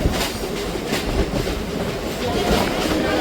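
A local train running on rails between Majherhat and Barasat, turning right, gives a loud, continuous close rumble with rhythmic clickety-clack and a brief wheel squeal.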